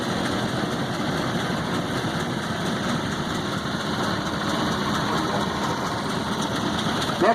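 A tractor engine runs steadily in a tractor parade at a show, a continuous close, loud rumble with a fine knocking texture and no noticeable change in pace.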